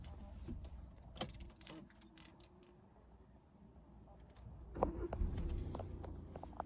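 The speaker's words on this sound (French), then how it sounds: "Le véhicule démarre au quart de tour, c'est parfait." Keys jangle inside a Volkswagen Golf VII Sportsvan 1.6 TDI 110 hp diesel with a manual gearbox, then the engine starts and settles into a low, steady idle rumble, heard from within the cabin.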